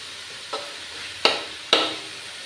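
Masala ingredients for Indian-style chicken masala sautéing in a pan, a soft, steady sizzle punctuated by three distinct spatula scrapes that ring briefly and fade, close up with no speech.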